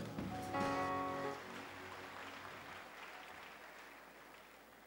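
Church congregation claps and cheers in a swell of applause, with a held voice or tone ringing briefly at the start, then the clapping thins and fades into a soft wash of room noise.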